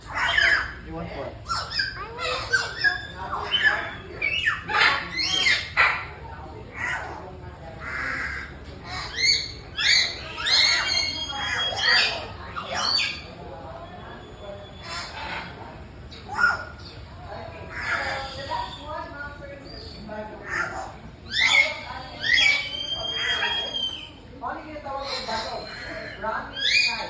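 A rescued Philippine serpent eagle gives repeated shrill, squawking calls in irregular bursts, close by, mixed with people talking throughout.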